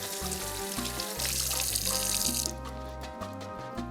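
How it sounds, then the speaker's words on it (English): Cold tap water runs continuously over lobster meat being rinsed, a close, steady hiss and splatter that lasts throughout and shifts slightly as the meat moves under the stream. Background music plays underneath. "I'm going to give this a little rinse under cold water."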